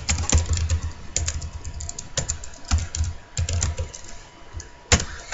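Close, crisp clatter of fingers typing on a computer keyboard, uneven bursts of keystrokes with short pauses between them, heard alone.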